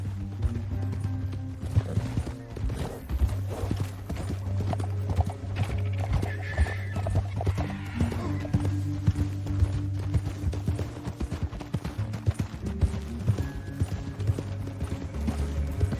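Horses gallop in Red Dead Redemption 2, their hooves clip-clopping in a fast, continuous patter with an occasional whinny. The sound is steady and fairly close, and no one speaks.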